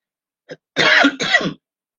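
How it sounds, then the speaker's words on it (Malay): A brief throat sound is followed by two rough, close coughs or throat clears in quick succession, with silence after. "Saya mula batuk."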